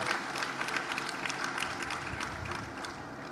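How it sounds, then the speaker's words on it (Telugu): An audience applauds parents at a gathering, a steady wash of many hands clapping at once that stays even and continuous throughout, with no talking over it. "have a huge round of claps for them"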